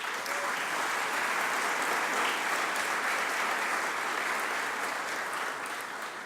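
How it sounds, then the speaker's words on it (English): Sustained applause at a Philadelphia mayor's press conference on youth sports, a loud, dense and even roomful of clapping with no break, fading only slightly at the end. "now hold the applause or we're never going to get through the lineup"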